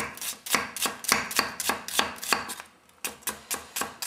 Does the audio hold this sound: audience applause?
no